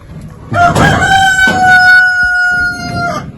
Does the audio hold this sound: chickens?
yes